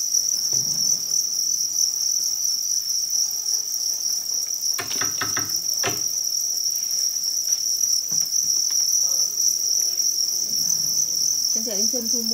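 Thai crickets kept for farming trill in a constant high, shrill drone, with a few brief knocks and rustles breaking through underneath.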